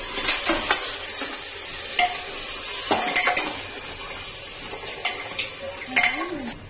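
A spoon stirs a spiced mixture with salt and turmeric in a pan while making a home-cooked mutton dish. It scrapes and clinks repeatedly against the pan over a steady, gentle sizzle.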